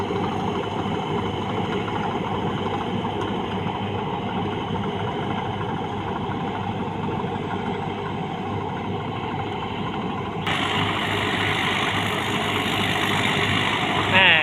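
Charoen Phatthana rotary tiller vehicle running hard in a rice field, its engine a steady loud drone with mechanical rattle that swells slightly near the end.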